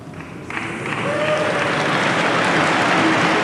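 Audience at Apple's 1997 keynote applauding the announcement of a Microsoft partnership, starting thin and hesitant, then swelling into steady, dense clapping from a large hall crowd.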